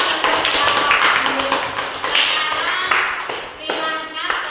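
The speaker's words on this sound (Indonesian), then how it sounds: "Tepuk tangan untuk kelompok B." A classroom of students applauds a group during an Islamic studies lesson, with dense, brisk clapping from many hands running throughout and voices mixed in.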